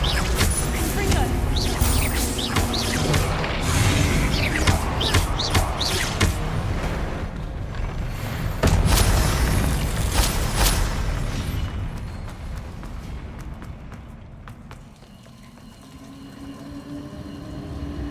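A Confringo fire spell blasts in Hogwarts Legacy amid dense combat noise: loud booming bursts and crackling impacts that roll on for several seconds before thinning into quieter rumbles.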